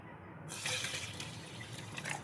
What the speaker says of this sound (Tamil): போட்டு நம்ம தண்ணி ஊற்றிக்கலாம்.